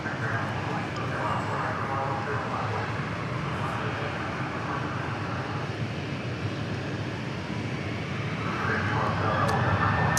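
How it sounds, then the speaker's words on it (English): A Southwest airliner takes off from runway 13 left at Dallas Love Field, its engines a steady, broad roar that fills the whole stretch and swells slightly toward the end. "There you can see Southwest. Taking the runway 13 left here."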